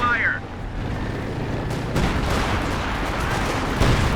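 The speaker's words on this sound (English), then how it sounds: "But they got a good barrage." An artillery barrage in Company of Heroes 2 fills the clip with dense, rumbling booms and bursts of gunfire. The shelling is continuous and loud, and a commentator's voice runs over it.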